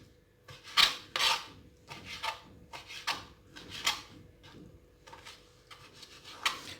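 A knife scraping the white layer off a cream-of-milk fruit dessert, quiet repeated rasping strokes in an irregular rhythm, close by with nothing else around them.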